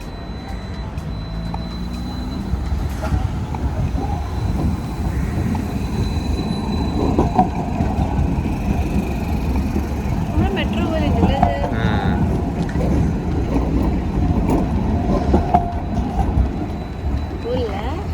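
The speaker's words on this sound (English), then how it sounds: "For the first time, we are seeing a tram in Denmark, and that's in Aarhus." A tram in Aarhus, Denmark rumbles past with a steady low rail drone and occasional higher wheel squeals, continuous and fairly loud throughout.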